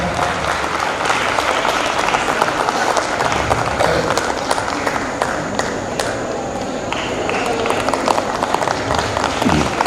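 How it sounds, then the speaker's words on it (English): An award ceremony audience gives a big, sustained round of clapping for a guest being seated on the dais, dense and loud from start to finish, with voices murmuring underneath. "Big round of applause."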